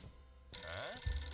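Telephone bell ringing in the video game Empire of Sin, a sudden bright electronic ring starting partway through and continuing steadily, close and fairly loud, no speech over it.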